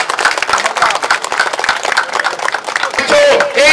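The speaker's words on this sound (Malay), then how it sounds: "Okey, satu tepukan." Audience clapping at the opening ceremony of a UMNO party branch in Kedai Beris, Kelantan, a dense burst of handclaps filling nearly four seconds with voices mixed in.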